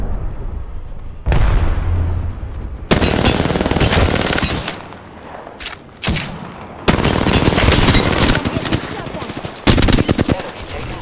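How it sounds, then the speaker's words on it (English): Loud bursts of automatic gunfire crackle in rapid volleys during an Apex Legends PC match, separated by short pauses with quieter game ambience. "The enemies are shooting at me."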